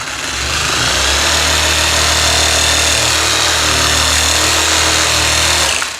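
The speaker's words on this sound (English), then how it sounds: "So I want to sand a convex, concave curved surface." A power sander runs continuously against a convex and concave curved surface, held in fixed position without its damping handle, giving a loud, close, steady motor drone with a gritty abrasive hiss that ramps up and winds down.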